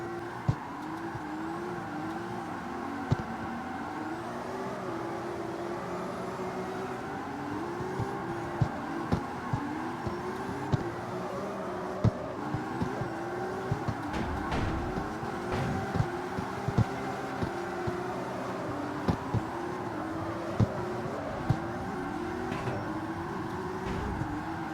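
A Nissan S15 drift car in the racing game CarX Street revs hard and continuously, its engine pitch rising and falling through gear changes, with tire squeal and occasional sharp pops, loud and alone.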